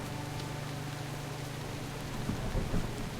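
A thunderstorm in World of Warcraft: The War Within, with steady heavy rain hiss and low rumbling thunder that swells slightly toward the end, no voices.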